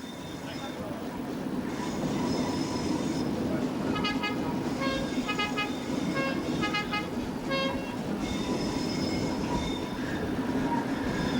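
A theme park railway train at PortAventura runs steadily and close by, its rolling rumble continuous for the whole stretch, with repeated horn-like whistle toots breaking through in the middle section.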